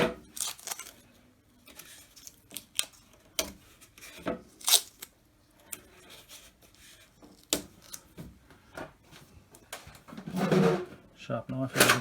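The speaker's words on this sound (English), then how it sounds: "Sharp knife out of the drawer." A drawer slides open and shut amid scattered clicks, rattles and handling noises on a workbench as a sharp knife is taken out, with a person talking throughout.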